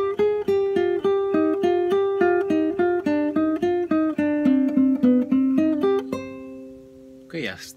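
Guitar plays the intro phrase of a song: a quick, evenly paced run of plucked single notes stepping through the melody, ending on a sustained ringing note, close and clear, with a brief rustle at the end.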